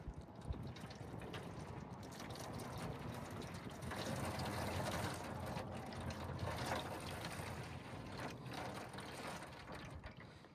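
Liquid pours steadily from a 32-ounce carton of beef broth into a container for a hot-and-fast brisket, a continuous wet, splashing stream that swells in the middle and runs for about ten seconds without any talk over it.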